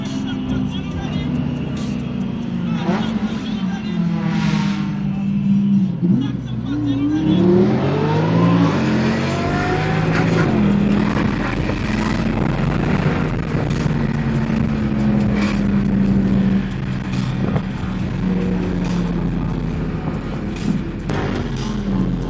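A Lamborghini or C63 AMG engine revs loudly through its exhaust, rising and falling in pitch with a deep throaty roar that continues throughout.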